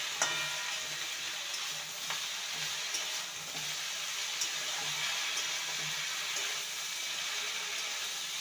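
Vegetables with pumpkin stems and turmeric powder sizzle softly in a pan as a spoon scrapes and stirs them, with light irregular clinks over a steady frying hiss and no talking.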